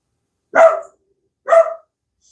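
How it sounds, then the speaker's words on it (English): A dog barks twice, loud and close, each bark short and sharp with a pause of about a second between them, and no one speaks. "there's a dog. I apologize for the dog."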